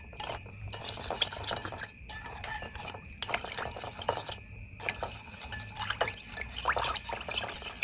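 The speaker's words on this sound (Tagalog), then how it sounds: "i-mix lang natin siya." Sweet and sour chicken sauce being mixed in a pan, with a utensil scraping and clinking steadily against the metal in close, busy, irregular strokes and no talking.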